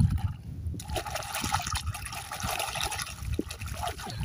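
A snail pulled from the mud of Dimna Lake near Jamshedpur being rinsed in lake water, giving a steady close trickling and splashing of water that runs continuously through the clip with no talk.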